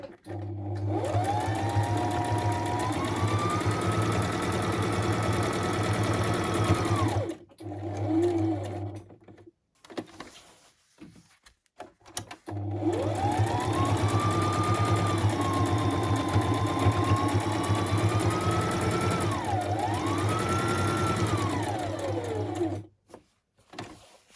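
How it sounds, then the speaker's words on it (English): A sewing machine runs straight stitch in two long bursts of rapid stitching, securing lace, its whirring pitch rising and falling, separated by a short pause with a few small clicks. "We have to go back to the sewing machine one more time"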